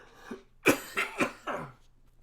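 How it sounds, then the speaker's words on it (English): A person coughs several times in a short burst, close and moderately loud, with a soft throat-clearing lead-in followed by four harsh, evenly spaced coughs. "now I'm coughing"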